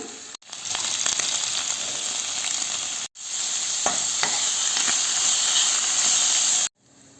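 Chopped onion sizzles and fries in a hot pan beside boiling pasta water, a steady loud hiss with scraping stir strokes that breaks off briefly twice, with no talking.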